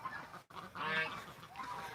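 Ducks near a lagoon give a couple of short, nasal honking calls, faint and somewhat distant, separated by a brief gap.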